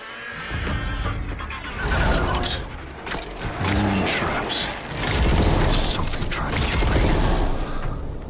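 Robot machine creatures in the video game Horizon Call of the Mountain move about with mechanical clanks, whirs and heavy thuds, loud and continuous in a dense game soundscape.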